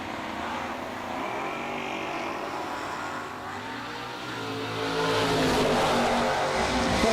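Drag racing cars at a Six Shooter Showdown event, one a wagon, rumble at the line and then launch, the engine roar swelling loud toward the end. No talk over it.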